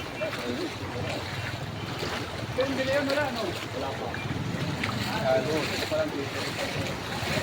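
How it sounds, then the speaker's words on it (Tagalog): A large vehicle pushes through deep flood water on a street in Santo Niño, Parañaque, a steady rushing wash of waves and water under wind noise, while a person talks over it. "May malaking sasakyan at maalon yan."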